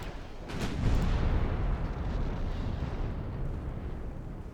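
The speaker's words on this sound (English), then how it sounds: "Impressed with those 5-inch guns, actually." Deep, rumbling naval gunfire from 5-inch secondary guns on a 1910-era Austrian warship in a naval warfare video game, a heavy boom near the start rolling into a sustained low roar of continuous firing.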